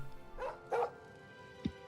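Mojo the dog in Oblivion Remastered gives two short, muffled barks and then a brief yip, faint and fairly close in a quiet room.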